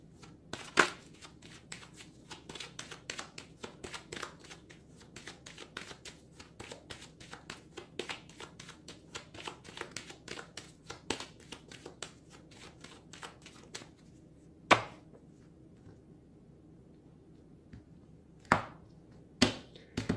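A deck of tarot-style cards being cut and handled, giving a long run of soft close clicks and riffles, with a few sharper snaps near the end and no voice.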